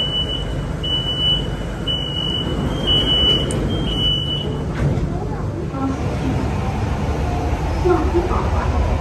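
A driverless Shanghai metro train rides along with a steady rumbling roll, while a repeated high electronic chime sounds in short bursts at the start and then stops; voices murmur faintly under the noise.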